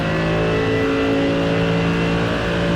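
A GT race car in the iRacing simulator holds a steady, loud engine drone at constant revs with a strong, unbroken tonal hum throughout and no speech.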